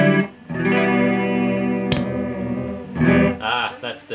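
Electric guitar through an Electro-Harmonix Stereo Small Clone chorus pedal set to deep, sustained chords with a thick, wavering shimmer, a brief strum break midway, then more chords; loud and alone without talk.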